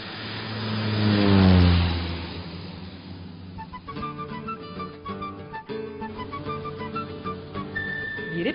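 A small light passenger aircraft engine growls louder to a peak and then fades away over a few seconds, followed by steady music.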